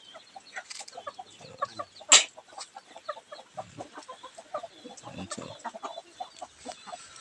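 Chickens and newly hatched chicks on a farm give soft, scattered clucks and peeps, with one brief louder squawk partway through. The sounds are faint and fairly close, with quiet voices now and then.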